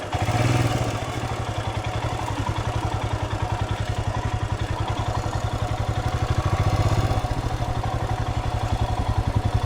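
A motorcycle crosses a stream in the Bastar forest. Its engine chugs loudly and steadily up close with a rapid, even pulse, swelling slightly twice, and no one speaks.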